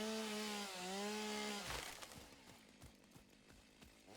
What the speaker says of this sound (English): I hope the chainsaw is not too loud